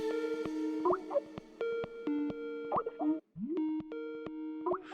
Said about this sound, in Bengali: শীতল ম্যাডামের ফোন, ভিডিও কল করছে।